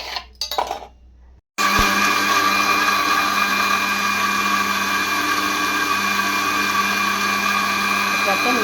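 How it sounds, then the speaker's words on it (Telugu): A mixer grinder blends semolina with curd and water, starting after a short clatter and then running as a loud, steady, high-pitched whir that continues to the end. "ఇప్పుడైతే మనం మిక్సీకి అయితే పట్టేసుకుందామే"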